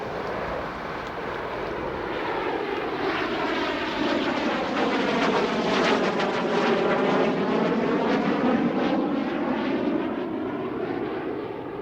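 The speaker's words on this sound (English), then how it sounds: "And now for the slow speed pass, the Stealth Fighter." An F-117 Nighthawk stealth fighter making a slow-speed flyby, its loud jet roar swelling as it passes overhead with a sweeping, whooshing pitch shift, then slowly fading, with no talking.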